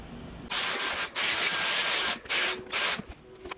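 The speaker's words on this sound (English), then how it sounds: "This is the first time that I'm using this kiwi brush" A kiwi brush scrubs a worn Louis Vuitton canvas duffel bag in several bursts of close, dry rubbing, separated by short pauses, with no talk.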